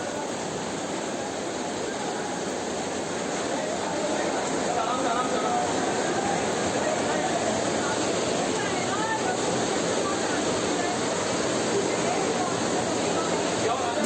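Floodwater pours at speed into a flooded basement of a coaching-centre library building, a steady, loud broadband rush that runs continuously and without a break, with a faint hubbub of voices far behind it.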